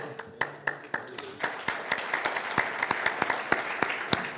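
An audience applauds after a speech at a public tour event in Guadalajara, Mexico: dense, close clapping with sharp individual claps standing out in an uneven rhythm, holding at a steady loudness throughout.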